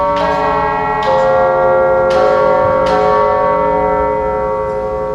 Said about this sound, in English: That is what the chimes at House on the Rock would sound like.